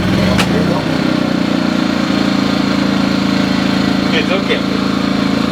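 A gas generator engine runs steadily and loudly right after a pull start, a close, continuous mid-pitched chug with a brief voice heard over it.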